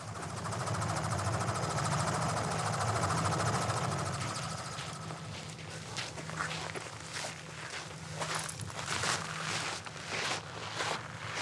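A helicopter's rotor and engine drone steadily in Vanuatu, loud at first and then easing off a little, with some rustling and crunching steps nearby.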